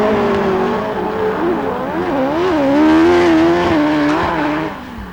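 Several autograss race cars roar around a dirt track, their engines rising and falling in loud overlapping revs that sweep through the gears with brief tyre scrabble, steady and continuous throughout.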